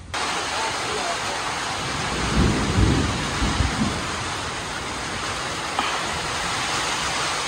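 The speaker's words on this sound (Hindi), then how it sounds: "बाहर देखो भाई क्या तगड़ी बारिश हो रही है।" Heavy monsoon rain pours steadily outside a roadside eatery in Manipur, a dense continuous hiss with low rumbles of thunder swelling in the middle, close and loud throughout.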